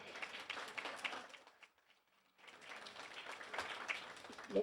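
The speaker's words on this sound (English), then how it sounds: "Give him a round of applause." A theater audience at a Gloucester zoning meeting applauds the sound technician, giving quiet, distant clapping that fades to a near-silent pause before a second round swells back up.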